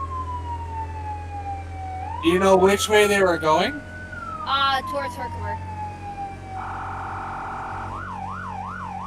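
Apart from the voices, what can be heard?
ambulance siren passing, from a video game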